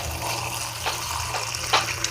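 Water running steadily from a tap to soak something for watering plants, a continuous close hiss with a few brief splashy surges, no talking.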